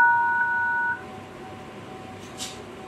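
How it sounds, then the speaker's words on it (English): Keypad tones on a Redmi Note 9 phone dialer beep as a code is entered, a short clear tone in the first second, then quiet room hush and a faint brief tap later. "go to the phone dialer, hit the star sharp"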